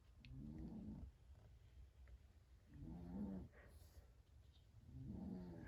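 A pet snoring in a quiet craft room: three soft, slow, evenly spaced breaths that rise and fall, faint and close.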